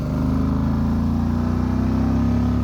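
A 2024 Moto Guzzi Stelvio motorcycle with its compact block engine running, a steady, loud, close low-pitched throb with a pulsing rumble and no voices.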